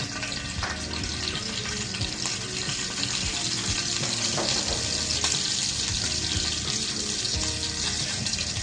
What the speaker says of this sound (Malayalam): വെളിച്ചെണ്ണ ചൂടാകുമ്പോൾ നമ്മൾ കടുക് പൊട്ടിക്കണം.